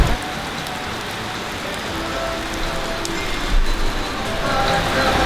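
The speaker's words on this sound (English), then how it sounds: "now we're ready to walk back through the rain" Steady rain pours down outdoors after a heavy downpour near a church at a resort, a dense even hiss of drops on the ground with faint voices or movement underneath.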